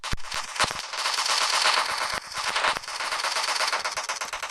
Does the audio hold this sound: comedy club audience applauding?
no